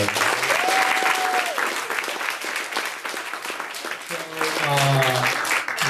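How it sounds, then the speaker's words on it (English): An audience at a startup founders' talk applauds steadily and warmly, a dense wash of clapping under a host's voice, with tonal music stings rising at the start and near the end. "A round of applause for."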